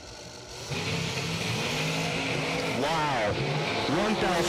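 A pro-charged dragster roars down the drag strip during a bracket race, its engine building to a loud rising howl with pitch sweeps, as an announcer talks over it.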